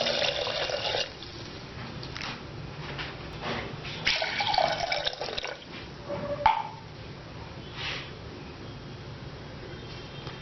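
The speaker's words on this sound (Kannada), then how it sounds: "ಅಕ್ಕಿಗೆ ನಾವು 2 ಕಪ್ಪು ನೀರು ಹಾಕ್ಕೊತಾ ಇದ್ದೀನಿ." Water poured onto washed rice in a pressure cooker for sweet pongal, a soft, fairly faint trickle with small splashes, no voices.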